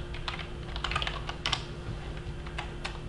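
Keyboard shortcuts are typed on a computer keyboard, with quick irregular clusters of clicky keystrokes over a faint steady hum, close and clear with no talking.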